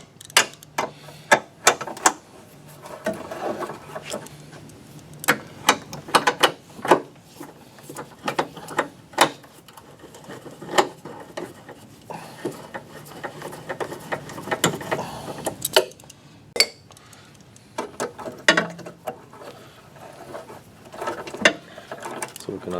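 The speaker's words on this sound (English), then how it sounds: "Using the good trusty speed wrench." A speed wrench spins and ratchets while removing 10 mm bolts on a Pontiac G6, giving bursts of sharp clicking and ticking close by, with metallic clanks between runs and short pauses.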